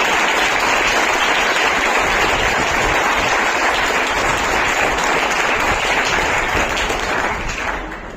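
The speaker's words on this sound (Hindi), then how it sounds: "एक बार खुद के लिए जोर से ताली बजाएं।" Loud, sustained clapping from a large audience at an award ceremony, a thick continuous wash of hands that holds steady and then tapers off near the end.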